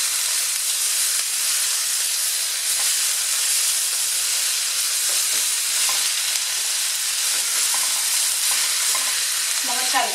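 Tomato being stirred into risoni in a hot pan, a steady close sizzle and steamy hiss running throughout with soft scraping stir strokes, a few sharper clinks near the end, no talking.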